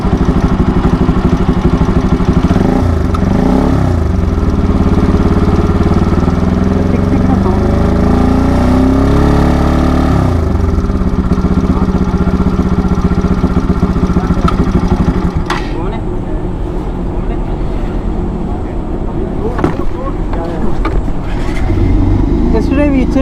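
A motorcycle engine idles with an abnormal rattling noise, a steady close clatter running continuously, briefly dipping midway, with voices talking over it.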